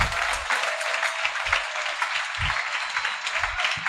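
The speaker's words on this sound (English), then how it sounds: "So let's clap for him." A classroom of students applauding together, a dense, steady patter of many hands clapping at moderate volume for several seconds, with a few louder low thumps near the microphone.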